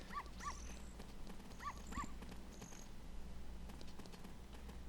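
A dog in the Zelda Ocarina of Time video game, in Kakariko Village, gives a few short, bright barks near the start and again around the two-second mark, over a steady game background hum.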